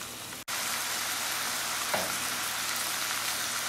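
Maitake mushrooms with garlic fry in a pan, a steady loud sizzle filling the whole stretch after a brief gap near the start, with a faint tap partway through.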